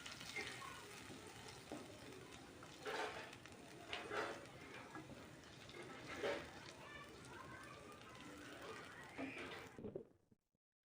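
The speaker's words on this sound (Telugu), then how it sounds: "రెండు ఎండుమిర్చి వేసుకొని మనం ముందుగా గ్రైండ్ చేసి పెట్టుకున్న టమాటో పేస్ట్ని కూడా వేసి లో ఫ్లేమ్లో ఒక ఐదు నిమిషాల పాటు కలుపుతూ ఫ్రై చేసుకోవాలి" Tomato paste and dried red chillies frying over a low flame for a fish curry, a soft, steady sizzle with intermittent stirring scrapes, fading out at the end.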